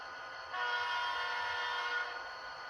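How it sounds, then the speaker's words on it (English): Model locomotive running on a layout, a soft steady motor hum that swells briefly in the middle before easing back, faint and close. "So locomotive's running."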